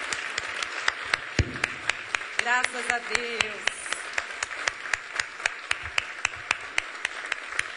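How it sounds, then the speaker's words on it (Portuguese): A church congregation claps for Jesus in steady rhythmic beats, sharp regular claps running throughout with a voice speaking briefly partway through. "Vamos dar um aplauso ao nosso Jesus"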